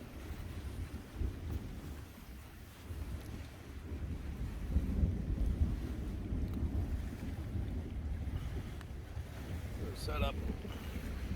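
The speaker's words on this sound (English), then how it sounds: "Here come the storms." A thunderstorm rolls over a wilderness campsite under a tarp in the Boundary Waters in September, a continuous low rumble of thunder mixed with steady wind and rain noise, broad and fairly even throughout.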